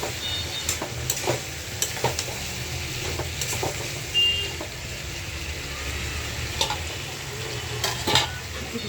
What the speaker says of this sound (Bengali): ফুলকপি আলু দিয়ে একটু কষায় নিই